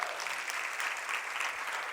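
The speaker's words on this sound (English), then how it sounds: "give her an applause for doing all this" Attendees of a women's leadership keynote break into continuous applause, a soft, fairly distant wash of clapping that stays level from start to finish.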